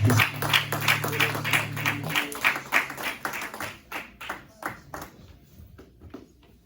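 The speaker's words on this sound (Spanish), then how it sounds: "Denle un fuerte aplauso al Señor Padre Santo." Congregation clapping for God during a Spanish-language church service, a steady run of hand claps that thins and fades toward the end, with a faint musical tone underneath early on.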